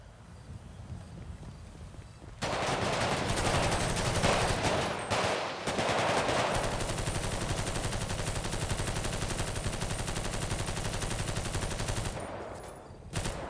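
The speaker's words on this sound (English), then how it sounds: "my vehicle is getting shot at" A video game roleplay police vehicle takes gunfire in a sustained, loud burst of rapid shots and impacts that starts after a quieter opening and runs for about ten seconds before cutting off.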